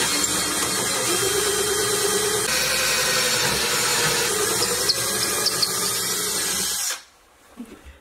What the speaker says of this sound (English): Now that I've drilled my hole